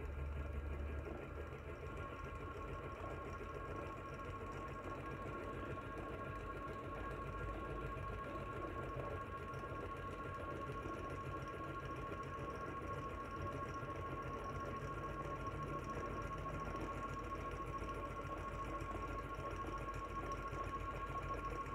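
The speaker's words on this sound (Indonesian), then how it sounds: "Pengujian pertama, motor DC dijalankan pada kecepatan 400 rpm." DC motor on a test bench running at 400 rpm, powered at 40 volts DC, gives off a steady, even mechanical hum with a constant whine that holds unchanged throughout.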